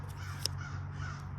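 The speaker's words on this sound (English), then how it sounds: "Crows in the background." Crows cawing faintly in the distance, a couple of short hoarse calls over a low steady hum, with a brief sharp click near the start.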